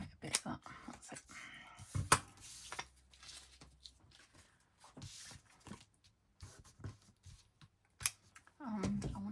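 Scissors trim paper for a scrapbooking craft in a string of close, crisp snips and cuts, some quick and clustered, others spaced apart with pauses between, along with some soft handling noise.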